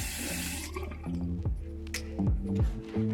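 Water runs into a newly fitted sink in a boat's forward heads, splashing and gurgling at close range with drips and a draining swirl, alone without talk.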